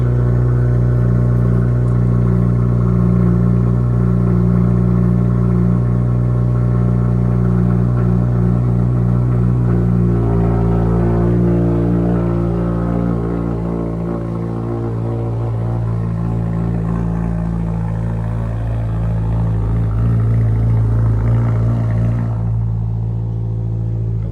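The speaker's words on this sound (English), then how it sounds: "Got a little rumble to it. A little Subaru rumble." A 2022 Subaru WRX fitted with a new exhaust idles close by with a deep, steady low rumble, the engine burbling continuously with slight swells and no voices over it.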